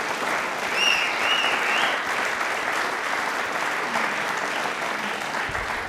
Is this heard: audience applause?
yes